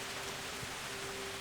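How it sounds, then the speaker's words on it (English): Heavy rain pours in Kingdom Come Deliverance, a dense, even hiss of falling water that stays constant and fills the short stretch without a break. "it's raining like crazy on us here"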